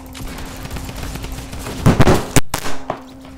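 Shotgun blasts from Fortnite go off in a quick burst, several loud, sharp reports close together near the end, set against game background noise.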